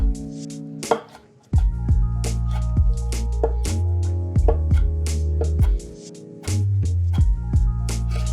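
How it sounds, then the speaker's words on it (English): Kitchen knife chopping small pieces of calamari on a cutting board, a string of sharp, close knocks, some clustered and some spaced, with a steady low hum underneath. "I'm just kind of running my knife through it."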